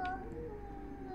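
A cat meows in the horror video game Yuppie Psycho, a short faint call over a steady low tonal drone of game ambience.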